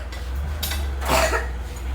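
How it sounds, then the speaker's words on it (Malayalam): A single short cough bursts out near the middle, close and fairly clear over a low steady hum in an otherwise quiet room. "ചുമ"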